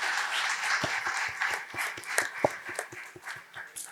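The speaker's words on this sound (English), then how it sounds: "I want all of you to give a big round of applause for the initiative." A scattered round of clapping from the audience at a panel discussion on open process automation, fairly close and modest in volume, with a few distinct sharp claps standing out over a thin backdrop.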